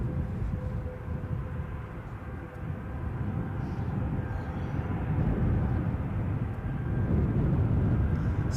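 An ATR turboprop airliner departs Edinburgh airport for Dublin, a broad, steady low rumble and roar that builds gradually louder in gusty outdoor air.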